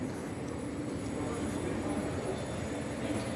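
A German high-speed train on the Frankfurt–Darmstadt–Stuttgart run gives a steady, low interior rumble and hum, constant and moderately faint throughout, with no distinct events standing out.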